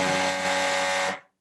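One loud, raucous sustained tone from the bottom note of the reeds in Elisha Gray's musical telegraph keyboard, rich and buzzy, holding steady for about a second before cutting off.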